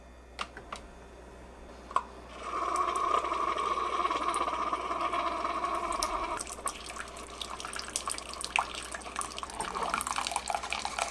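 A Keurig K Elite coffee machine brewing tea on its iced setting: a click, then a steady close pouring hiss of hot water into a pot, ending with trickles and drips.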